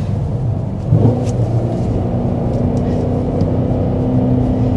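A 2024 Cadillac CT5-V Blackwing pulls away with a deep, steady engine rumble and low whir, heard from inside the car with no talking.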